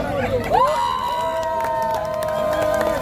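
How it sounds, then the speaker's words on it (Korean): A crowd at a Cheonan election rally cheers, with sustained, rising shouts and hubbub from many voices ringing out over a busy, lively background. "큰 박수와 함성 기대해도 되겠습니까?"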